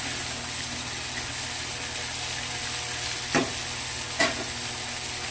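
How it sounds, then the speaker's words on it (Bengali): Potato pieces frying together in a pan until reddish-brown: a steady, close sizzle with no talk, broken by two brief knocks near the end. "আলুগুলো আমি একসঙ্গে ভেজে নিলাম, সুন্দর করে লাল লাল করে ভেজে নিলাম।"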